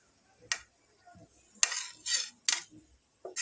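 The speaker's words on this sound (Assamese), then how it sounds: "মই মিক্সাৰখিনি মিক্স কৰি দিলোঁ।" A utensil scrapes and clinks around a bowl while stirring two eggs into a fried vegetable mixture for a Spanish omelette, several short close bursts separated by quiet pauses.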